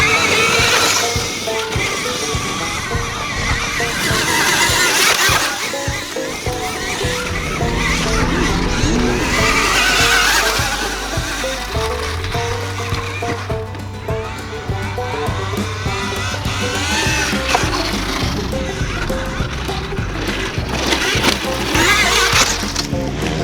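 A KTM Freeride electric dirt bike's motor whirs loudly and steadily as the rear wheel spins, a continuous close roar of drive noise and tire rush with no pauses.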